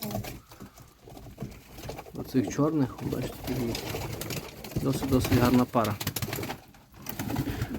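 Sport pigeons, including speckled 'rysiaky', coo nearby in a loft while someone talks steadily over them, the soft cooing running beneath his voice throughout.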